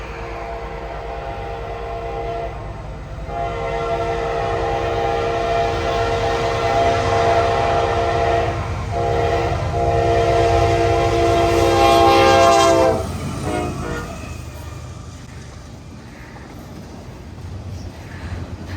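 An eastbound freight train in Mississippi rumbles past close by as its horn sounds in several long blasts, then the horn stops and the steady rolling rumble continues.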